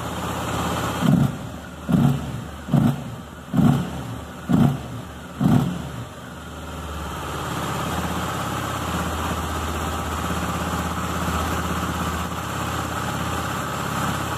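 A Honda XRE 300 Rally motorcycle engine idles steadily, revved in six quick blips near the start, then settles back into a low, even idle.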